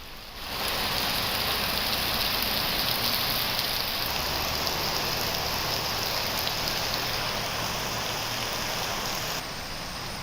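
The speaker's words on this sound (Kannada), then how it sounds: "ಎಲ್ಲಾ ಕಡೆ ಈಗ ಹೆಚ್ಚು ಮಳೆ ಆಗ್ತಾ ಇದೆ." Heavy monsoon rain falls in the Western Ghats around Chikkamagaluru, a dense, steady roar of rain that starts within the first second and continues without a break, with no talk.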